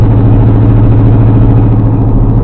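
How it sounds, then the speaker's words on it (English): A Ford F100 truck engine roaring loud and continuous during a burnout, a dense low rumble held at high revs with no break. "still pretty impressive burnout"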